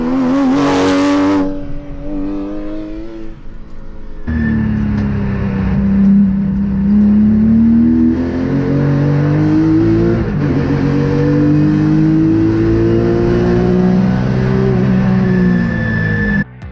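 A Porsche Cayenne GTS races at London Raceway, its engine revving hard and rising in pitch through the gears. A brief sharp burst leads into sustained, loud, close engine roar with shifting pitch sweeps.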